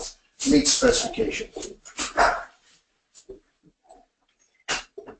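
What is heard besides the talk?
little dogs barking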